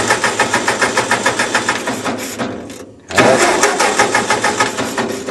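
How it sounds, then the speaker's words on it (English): A 1940 Ford 9N tractor engine cranks over on the starter in a steady, rapid rhythmic chug, pauses briefly, then resumes cranking loud and close. "and I'll crank it over"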